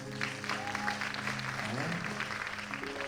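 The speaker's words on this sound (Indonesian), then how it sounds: "kasih tepuk tangan dulu buat Tuhan" A room full of people at a church worship service clapping steadily, dense and continuous, with a sung or spoken voice carrying over the applause.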